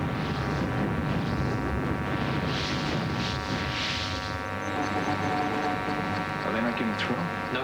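Military jets roaring loudly during an aerial attack, a sustained broadband engine rumble with bursts of noisy firing, with radio voices heard over the din.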